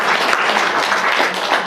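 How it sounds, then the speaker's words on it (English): An audience in a talk or lecture setting claps together in a short, loud, dense burst of applause that stays steady throughout. "Let's clap for her."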